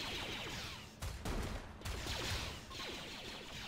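Gunfire in the RimWorld video game during a raid skirmish, a dense fusillade of overlapping shots and bursts that swells and dips across a few seconds, loud with no talk over it.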